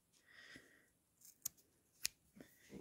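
Scissors snip jute cord for a macrame pacifier clip, two sharp close cuts in an otherwise quiet room with faint handling in between.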